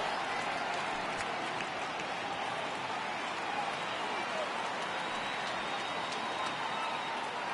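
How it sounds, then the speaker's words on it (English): A minor-league baseball crowd at a Texas League game, Cardinals at Rockhounds, rises and cheers steadily at a full count, a continuous wash of applause and crowd noise heard from the broadcast booth with commentary over it. "Crowd gets up for the 3-2."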